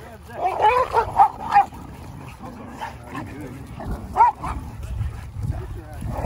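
Dogs at a dog park bark, yip and whimper in short bursts near the microphone while people talk over them.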